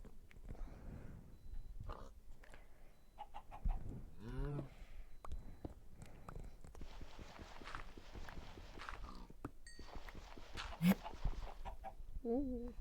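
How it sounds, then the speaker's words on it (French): Hens cluck in the video game Hyping, with short bursts of clucking and footstep-like taps over a busy game soundscape, moderately loud, with a few brief vocal sounds. "Une nouvelle poule."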